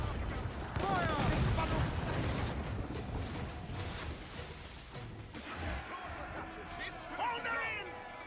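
Ship cannons boom in a naval battle in Assassin's Creed IV Black Flag, several heavy blasts and crashes layered with shouted crew orders and loud battle noise throughout.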